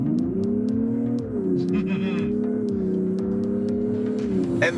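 A Mazda CX-60 with the 3.3 mild-hybrid engine accelerates hard at full throttle on a deserted twisty road, its steady rising engine drone loud and close, with faint cabin sounds over it.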